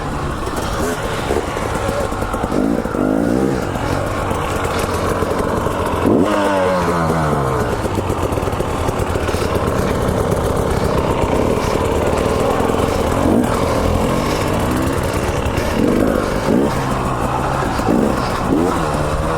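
A 2019 KTM 300 XC-W TPI two-stroke dirt bike revs hard and close, its pitch climbing and falling in repeated sweeps as the throttle opens and closes, with a person talking faintly over the engine.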